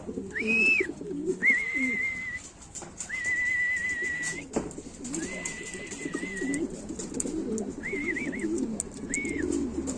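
Pigeons on a house roof give low, throaty coos in overlapping bursts, joined by a repeated clear whistle-like tone that comes and goes, all fairly near with no talking.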